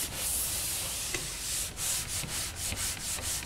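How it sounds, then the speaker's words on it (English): A pole sander scrubs over drywall joint compound along a taped joint, making a soft, faint rubbing hiss in repeated strokes with short pauses between passes. "Now, using the pole sander on the edge,"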